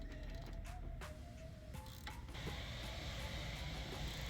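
An 18mm wrench braced against the strut and a T40 Torx bit break a sway bar link nut free on a 2013-2020 Chevy Trax or Buick Encore front suspension, giving metallic ratcheting clicks and creaks with a short squeal near the start.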